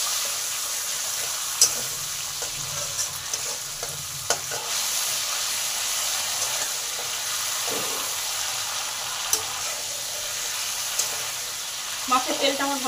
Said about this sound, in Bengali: মাছের তেলটাকে ভালো করে ভাজা করে নেব।